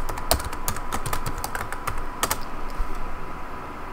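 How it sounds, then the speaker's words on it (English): Someone types a password on a computer keyboard, a quick irregular patter of sharp key clicks close by, with a few louder taps and no talking. "you type in yes and type in the password"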